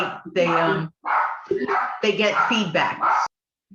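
A dog barks and yips several times close by, mixed in with a person talking over it.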